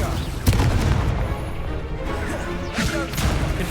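Incendio fire spell cast in Hogwarts Legacy, a sharp whooshing burst followed by a crackling roar of flame, loud and close among other game effects and impacts.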